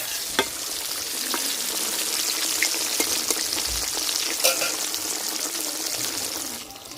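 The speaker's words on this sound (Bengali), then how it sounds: "এই তেলে দিয়ে দিব আলু।" Potato pieces coated in salt and turmeric fry in hot oil left over from frying pumpkin, a steady close sizzle broken by occasional clinks and stirring scrapes, with no voices.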